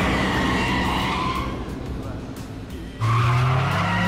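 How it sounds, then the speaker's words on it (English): A car drifts through a turn with loud, sustained tire squeal and a roaring engine in the Yakuza 5 Remastered video game, the skid easing midway and then resuming sharply with a rising engine note. "So we'll do our drift here."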